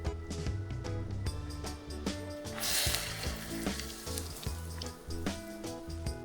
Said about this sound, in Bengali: এরপর এই তেলটুকু আবারও গরম করে আমাদের মেপে নেওয়া উপকরণে দিয়ে দিব